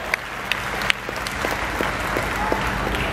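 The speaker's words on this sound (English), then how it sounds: "a big round of applause to Solar Impulse" A crowd applauds Solar Impulse 2 at an event in Ahmedabad, a steady wash of clapping with a few sharp individual claps standing out and a low rumble beneath.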